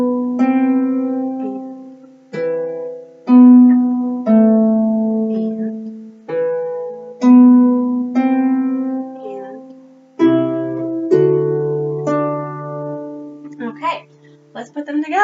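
A harp plays the left-hand part of the tune Fairly Shot of Her: plucked bass notes and low chords ring out alone, close and clear, in an unhurried phrase with a few quieter plucks at the end.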